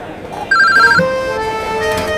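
A telephone rings on an outgoing call to a police commissioner's office, with steady tonal ring bursts over a busy room background of voices and noise.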